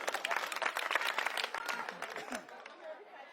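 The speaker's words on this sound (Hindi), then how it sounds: "इसके लिए ताली बजा दो पहले।" An audience at a political rally breaks into applause, a burst of clapping mixed with crowd noise that is loudest at first and then fades over a few seconds.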